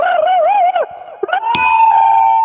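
A person on a radio show's crow impression contest imitates a crow's caw with a strong vibrato, the voice wavering up and down in pitch up close before breaking off into a brief held tone.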